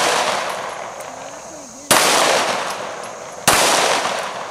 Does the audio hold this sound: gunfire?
yes